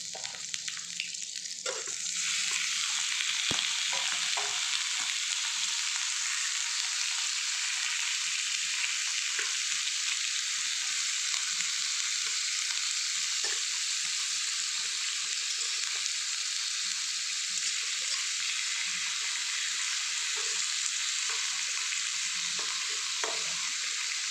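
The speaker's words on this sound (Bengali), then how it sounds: "রসুনটা আমি ব্রাউন কালারের করে ভেজে নিয়েছি এবং এর মধ্যে দিয়ে দেবো চিকেনের পিসগুলো" Chicken pieces dropped into oil with garlic already fried brown, setting off a loud, steady hiss and sizzle that runs on continuously, with occasional light clicks of stirring.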